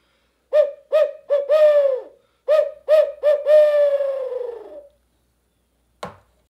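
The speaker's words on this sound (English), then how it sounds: "It's an owl call, just to get something to gobble" A handheld owl call, used in the woods while turkey hunting to make turkeys gobble, is blown close up in a rhythmic series of hooting notes. The last note is drawn out and falls in pitch, and a short click follows.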